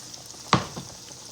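Okra frying in a pan gives a faint, steady sizzle, broken by one sharp clatter partway through.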